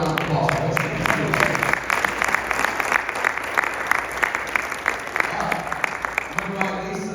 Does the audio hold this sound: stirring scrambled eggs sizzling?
no